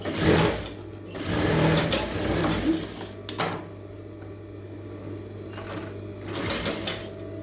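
A sewing machine stitches a blouse sleeve with a small stitch length, running in a few steady bursts with short pauses, close and moderately loud, with a constant low hum underneath.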